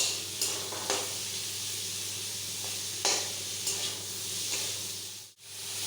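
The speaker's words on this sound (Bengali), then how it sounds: "প্রথমে পেঁয়াজটা আমি একটু জোর আঁচে ভাজবো" Onions frying over high heat in a pan, giving a continuous close sizzle with a few light stirring scrapes and brief clinks, fairly quiet throughout.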